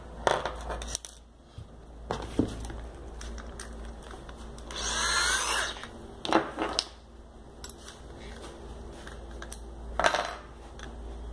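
An 8mm countersink bit drills screw holes, giving a few short harsh bursts of grinding with one longer burst in the middle, close and moderately loud against a quiet background.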